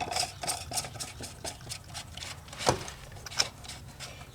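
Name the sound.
oil filter cap being screwed into a Jeep 3.6L V6 engine by hand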